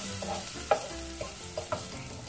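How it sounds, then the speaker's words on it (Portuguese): A few small garlic cloves fry in a spoonful of hot fat for a pasta lunch, a low steady sizzle broken by several sharp clicks as the utensil stirs, close and quiet. "gordura quente, vou colocar uma colherzinha de sobremesa aqui. Aqui tem uns 4 dentinhos de alho pequeno"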